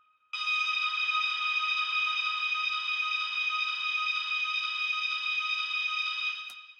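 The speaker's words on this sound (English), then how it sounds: "So then we're gonna put a lot of reverb on it." A sustained melodic deep house synth chord drenched in heavy reverb holds steady and bright for several seconds, then fades into a short echoing tail.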